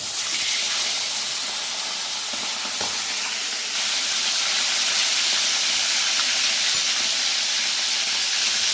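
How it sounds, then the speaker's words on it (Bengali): Chicken pieces frying in hot oil while a chicken roast is cooked, a steady loud sizzle and hiss running the whole way through, close by and without talk. "এখন মুরগিগুলো একে একে ছেড়ে দেবো গরম তেলে"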